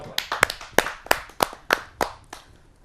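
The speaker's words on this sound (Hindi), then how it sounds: "आप सबकी जोरदार तालियों के साथ" A small audience at a Hindi poetry gathering claps, a sparse set of sharp hand claps in an uneven rhythm that thins out and fades after a few seconds.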